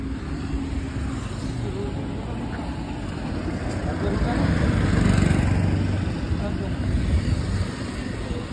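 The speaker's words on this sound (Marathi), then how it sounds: "गाडी चालू झालेली आहे आमची" Diesel vehicle engine running steadily after being started, a continuous low rumble close by that swells briefly in the middle before settling back to a constant drone.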